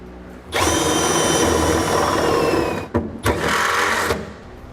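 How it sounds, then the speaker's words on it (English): A power drill whines loudly into the steel of a 2009 GMC Sierra's frame in two bursts, the first long and steady, the second shorter after a brief pause, drilling holes out to 1/2 inch. "we need to drill those out to a 1/2-inch size"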